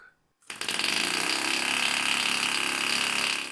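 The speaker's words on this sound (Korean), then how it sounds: "그리고 엔진을 연달아 작동시켜보면 성능 차이가 확실히 들립니다." Small diaphragm-driven air engines start after a brief near-silence and run with a loud, dense, rapid mechanical buzzing that holds steady for about three seconds before tapering slightly.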